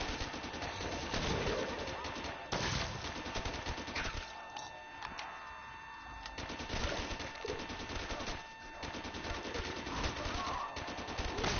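Rapid gunfire in a zombie-shooting video game, rattling bursts that run through most of the stretch with short gaps between volleys, plus a voice talking over parts of it.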